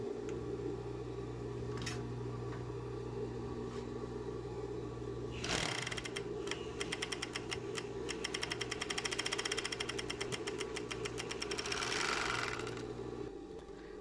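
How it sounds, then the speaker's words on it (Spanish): A five-thread overlock machine stitches flannel pajama seams, starting as a steady motor hum and then breaking into a fast, rapid mechanical chatter of stitching that runs several seconds before winding down, close and alone. "Este terminado lo vamos a hacer con una over de 5 hilos."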